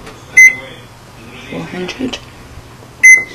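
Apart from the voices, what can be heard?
oven control panel beeping while setting preheat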